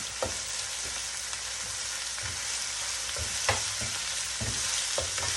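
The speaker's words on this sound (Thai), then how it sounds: "ก็จะผัดกุ้ง" Shrimp stir-fried with shiitake mushrooms in a pan, giving a continuous close sizzle with scattered scraping clinks of a utensil stirring through it.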